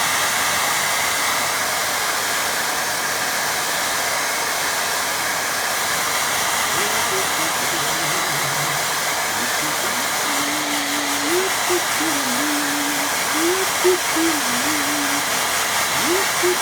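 A hair dryer blows steadily on a wet watercolour painting, giving a continuous close, even whir and hiss with no break. Faint pitch shifts sit under it near the end.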